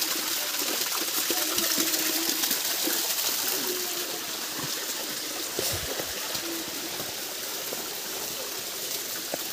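Stream water flows steadily at a spot where people are bathing, a constant close rushing and splashing wash that holds at the same level throughout, with faint background murmurs but no clear talk.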